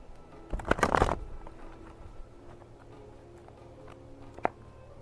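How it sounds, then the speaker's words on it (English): Oracle and tarot cards being shuffled, a quick close burst of riffling flutter lasting about half a second, then near silence with one sharp tap. "Let me give this a shuffle."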